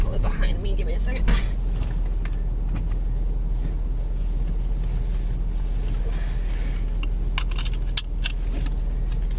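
A vehicle drives through a bison range, its steady low engine and road rumble filling the cabin with a constant drone, with faint rattles and clicks from inside over it.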